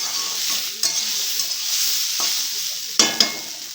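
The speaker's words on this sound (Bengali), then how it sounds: "আর এদিকে এই যে বসিয়েছি উচ্ছে চচ্চড়ি" Bitter gourd chachchari sizzles steadily in a hot pan while a spatula stirs it. A few sharp scrapes and clinks against the pan break through the continuous frying hiss.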